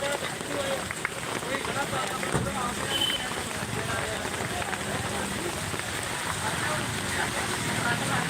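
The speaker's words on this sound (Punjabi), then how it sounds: "ਅੱਧਾ ਘੰਟਾ ਹੋ ਗਿਆ ਜੀ ਮੀਂਹ ਪਈ ਜਾਂਦੇ ਨੂੰ" Heavy rain pours down in a village in Bathinda district, a dense, steady roar of drops hitting surfaces close by, with someone speaking over it at times.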